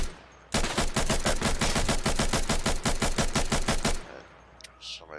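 Rapid, evenly spaced pistol shots in the tactical shooter Insurgency ring out loud and close in a dense volley lasting about three and a half seconds, then stop abruptly, leaving faint background noise.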